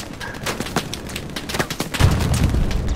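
Rapid gunfire and booming blasts from a tank battle in a video game, with irregular bursts and a heavier rumbling explosion toward the end, loud and close.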